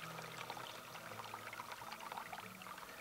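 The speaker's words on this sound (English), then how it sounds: "You'll see as the water rises, it's pushing the float, which is putting the plunger in to seal off the water supply." An electric livestock waterer filling with water, a steady close pouring and gurgling stream with low bubbling tones, running continuously at an even level without talk.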